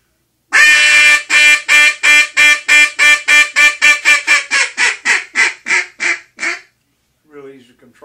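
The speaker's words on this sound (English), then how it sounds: "it'll do everything from a ringing hail call all the way down to the softest clucks and whines" Blown close and loud, a Buck Gardner Mainstreet spit-tag duck call rings out a hail call of roughly fifteen quick quacks that speed up, then trail off softer, followed by a brief low sound.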